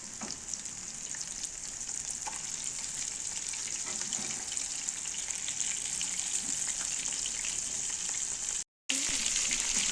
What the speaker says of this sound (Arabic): طبعا انا حطيت الزيت اهوت سخن. هحط بقى الكميه اللي انا عملتها تتقلي